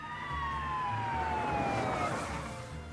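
Police siren in the Chicken Police video game, its descending wail sweeping down in pitch over a low rumble, moderately loud and steady with no talk.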